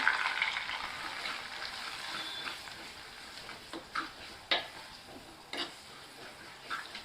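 Chopped small shallot onions sautéing in a pan for fish head curry, a soft steady sizzle with occasional clicks and taps of stirring.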